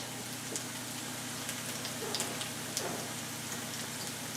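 Onions fry in a pan for a pork and sauerkraut casserole, a soft steady sizzle with scattered faint pops and crackles, fairly quiet and without talk.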